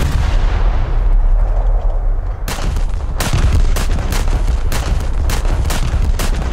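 Heavy battleship main guns firing in War Thunder on an Italian premium dreadnought, a string of loud booming salvos after a rumbling lull, blasts repeating roughly every half second to second over continuous low battle rumble.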